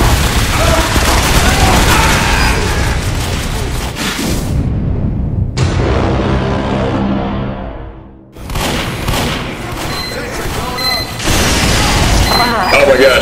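Gunfire and explosions in Team Fortress 2, with rapid shots and booming blasts, a sudden drop into quieter ringing, then more heavy fire. Players talk throughout.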